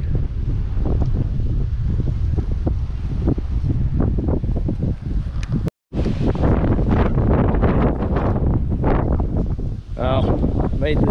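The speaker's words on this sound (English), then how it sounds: "Too windy." Strong wind buffets the microphone in a loud, continuous roar at Fort Louis, Marigot, Saint Martin, with a brief dropout midway and a voice speaking faintly underneath.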